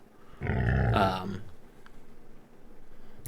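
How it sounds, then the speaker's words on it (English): Growling of massive hunting dogs in the woods, a deep, rough rumble swelling loudly for about a second, then trailing off into a low, faint background growl. "Jade and Demetrius, you guys hear growling surrounding you."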